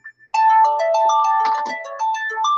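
A mobile phone plays game ringtone music, a bright electronic melody of quick stepped notes that starts after two short blips and runs loud and continuous to the end.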